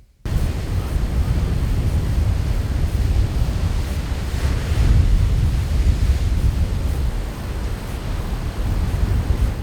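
Ocean surf and wind on a Martha's Vineyard beach form a steady, loud broadband rush with a heavy low rumble, swelling slightly midway, with no voices.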